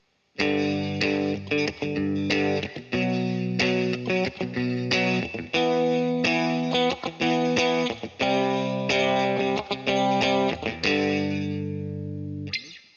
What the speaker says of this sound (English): we're just going to use a couple different power chords to represent a little riff that we can create.